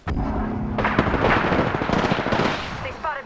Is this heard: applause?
no